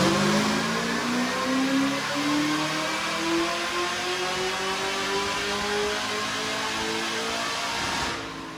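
A supercharged LSA V8 in a third-generation car screams loud and steady on a dyno pull, its pitch climbing smoothly toward about 6,900 rpm before cutting off at the end.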